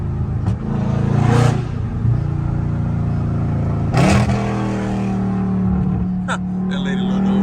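A catless Dodge Charger Scat Pack in traffic, its loud exhaust droning with a low rumble and brief rising revs, heard from inside the car alongside passing traffic.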